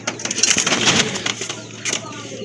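Thick-beaked pigeons at a pigeon market, with soft cooing and fluttering close by over a bustle of background noise and faint voices.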